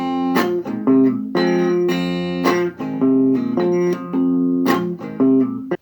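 Blues guitar plays a groove: close, clear plucked notes in a repeating, steady rhythm with bright string attacks and sustained low tones, played alone without talk.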